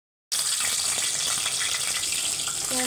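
Hot oil sizzles and crackles steadily in a kadai while cooking starts for a fish-head muri ghonto with moong dal, a bright continuous hiss starting abruptly after a brief silence, close and fairly loud, without speech.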